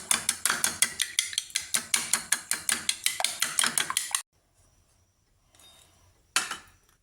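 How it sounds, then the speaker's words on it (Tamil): Two eggs are beaten briskly in a bowl for egg dosa, giving a fast, even run of sharp clinking whisk strokes for about four seconds, then a pause and one last faint clink. "2 முட்டை எடுத்து உடச்சி நல்லா அடிச்சுக்கணும்."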